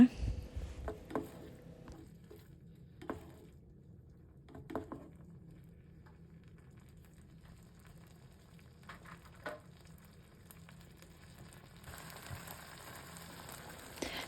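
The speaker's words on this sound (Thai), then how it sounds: "จากนั้นก็ผัดเนื้อปลาสักครู่นะคะ" Quiet sizzling and soft scraping as canned fish stir-fries in a pan, with a few sharp utensil clicks. The hiss grows brighter near the end.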